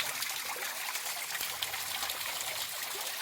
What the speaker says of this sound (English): Not when it's just a little trickle like this.